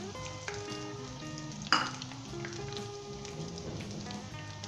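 Garlic and ginger sizzle steadily in a hot pan, a soft, constant frying hiss broken by one sharp clink of a spoon stirring partway through.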